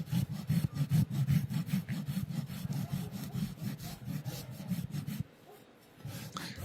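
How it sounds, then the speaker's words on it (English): A farrier rasps a horse's hoof flat with steady rhythmic back-and-forth strokes, a coarse scraping close by that pauses briefly near the end before resuming. "We're going to rasp the foot flat."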